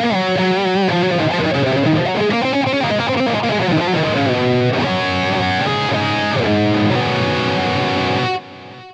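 Heavily distorted electric guitar through a Victory Kraken head and Suhr Reactive Load plays a melodic run with echoing delay repeats trailing each note, loud and sustained before cutting off near the end.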